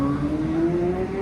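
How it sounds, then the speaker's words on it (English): A car engine revs hard and rises steadily in pitch at a car show where cars are doing burnouts and launch control starts, loud and sustained with no talking. "there's cars doing burnouts, launch controls,"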